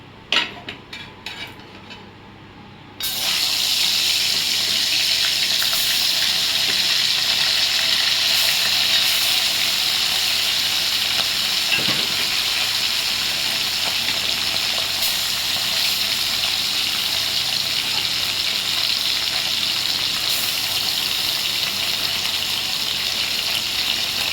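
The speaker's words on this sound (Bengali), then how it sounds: "কই মাছগুলো এবার এক এক করে ভেজে নেব।" Koi fish drop into hot oil one by one, and after a short quiet start a loud, constant hissing sizzle rises and holds steady, with occasional faint utensil clinks.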